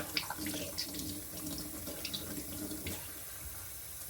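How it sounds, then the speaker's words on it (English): Hands rinsed under a running tap at a sink after honing a straight razor, a steady close splash of flowing water with small drips and clinks, no talking. "I'm just gonna rinse my hand off"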